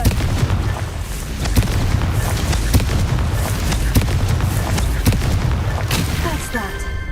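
A Confringo fire spell in the Hogwarts Legacy video game explodes in a busy run of booms and sharp bursts, loud and repeated over several seconds amid ongoing combat sounds.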